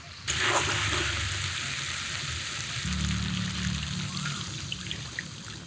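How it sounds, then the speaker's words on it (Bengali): Water poured into a pan of frying fish curry with fried fish and potatoes: steady close sizzling with a trickling splash near the start, then a fuller bubbling hiss as the liquid heats, no talking. "আর এখন এগুলো সেদ্ধ হতে অল্প জল দিব।"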